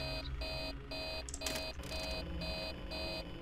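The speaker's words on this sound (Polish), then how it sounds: "Przestań mi mrygać i pikać." Repeating electronic alarm beeps from Five Nights at Freddy's 3, a steady run of evenly spaced short tones sounding about twice a second, loud and continuous with no talking.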